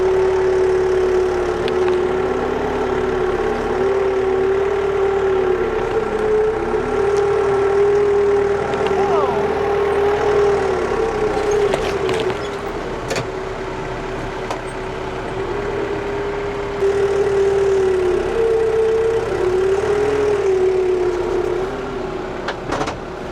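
Four-wheel drive vehicle engine pushing hard in road gear while clearing roots in a yard, a loud, close, steady droning hum with slight shifts in pitch and load throughout.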